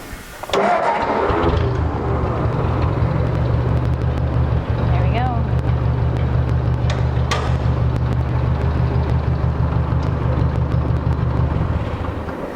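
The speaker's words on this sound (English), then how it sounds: "So now we're ready to start the tractor" A tractor engine starts with a sputter, then settles into a steady, loud, low rumbling idle that runs continuously until near the end.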